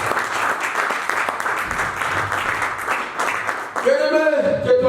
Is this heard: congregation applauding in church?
yes